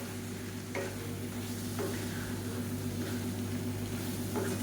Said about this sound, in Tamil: ஒரு 2 நிமிஷம் நல்லா ஹை ஃப்ளேமில் வச்சு பரட்டி விட்டுக்கலாம்.